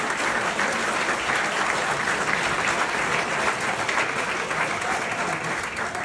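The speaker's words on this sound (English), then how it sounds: "you guys should give yourselves a round of applause for being here tonight" An evening audience gives itself a round of applause, a full, even roar of clapping from a crowded room lasting several seconds without pause.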